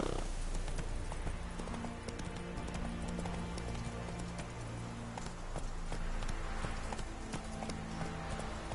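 Rhythmic clip-clop of the horse Roach's hooves in a video game, steady close footfalls at a trot with a dense busy background bed and no talk.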